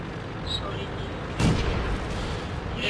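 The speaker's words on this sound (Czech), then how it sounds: "oni tu po sobě už zase střílí" Tank cannon fire in World of Tanks: a single sharp boom lands mid-clip over a hissy game background, with faint distant shots around it.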